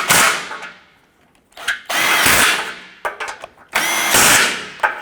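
A power tool tightening bumper bolts on a 2012–2017 Toyota Camry, three loud, close bursts of drill whirring and ratcheting separated by short pauses with faint clicks.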